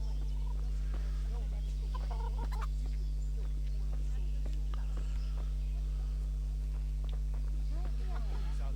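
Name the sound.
chickens clucking in the video game Kingdom Come Deliverance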